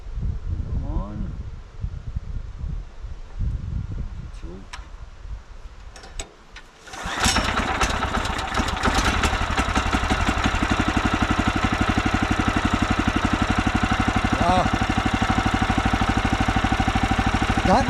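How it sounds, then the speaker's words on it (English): Small engine on an off-grid acreage, cold-started on the first pull of the cord with the choke on: a sharp sputter catches after a few seconds, then a steady, loud idling drone carries on without a break. "Just poured fuel in it, choke on, first pull, and it actually started."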